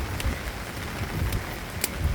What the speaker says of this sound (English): We are walking in the rain.